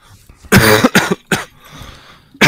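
A person coughs several times in quick, harsh bursts close to the microphone, followed after a pause by one more short cough, with no speech around them.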